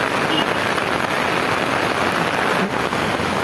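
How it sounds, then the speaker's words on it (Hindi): Heavy monsoon rain pours down in Ulwe, India, in a dense, steady hiss, loud and unbroken throughout, with no voices. "ये देख रहे हैं बहुत ज़्यादा बारिश होने लगा है"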